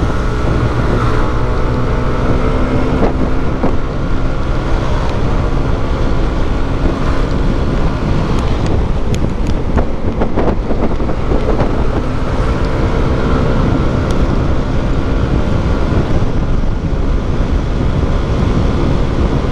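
A Yamaha Aerox 155 VVA scooter engine with reduced power drones steadily while accelerating on a ride, with heavy wind rumble buffeting the microphone throughout and no talking.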